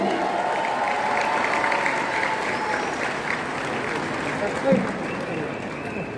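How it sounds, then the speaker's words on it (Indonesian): Crowd applause at a political volunteer declaration rally in Indonesia, a steady broad wash of clapping with voices and cheers mixed in, sustained throughout at moderate loudness. "Tepuk tangan untuk semua yang hadir di sini"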